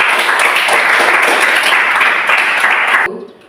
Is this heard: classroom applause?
yes